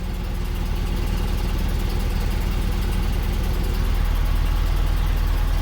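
A BMW 633 CSi engine runs steadily on its own just after starting, a close, continuous idle with a low rumbling pulse that holds even throughout, with no talking over it.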